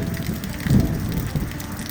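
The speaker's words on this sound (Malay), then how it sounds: "hujan pun turun dengan lebat." Heavy rain falls on a jungle campsite in thick brush, a steady close hiss of drops over a low rumbling wash that never lets up.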